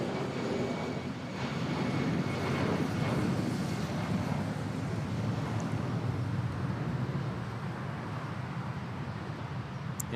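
A Cebu Pacific Airbus A320 on its takeoff run at Manila Airport gives a steady, moderately distant engine roar that swells slightly and then holds, with wind noise mixed in and no talking.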